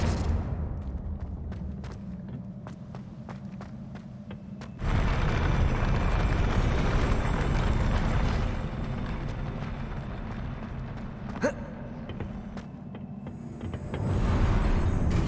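Confringo blasting spells fire off in the Hogwarts Legacy video game, a string of sharp, closely spaced clicks giving way to sudden loud, roaring blast noise that swells and lingers before surging again.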